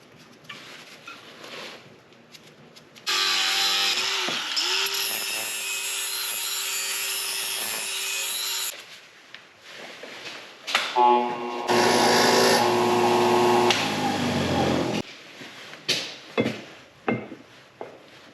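A power tool cuts off excess bolt ends during an Air Lift 5000 air bag install on a Toyota Tundra half-ton truck, giving two loud, sustained whining grinds separated by a pause and followed by short clatters.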